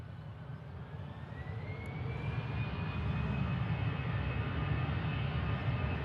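An airliner starts its takeoff roll at an airport, jet engines spooling up with a rising whine over a deep rumble that grows steadily louder and more sustained, heard alone.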